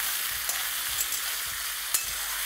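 Thinly sliced onion frying with potatoes in a pan over high flame gives a steady, close sizzle. Faint scrapes of stirring recur throughout, with no voices.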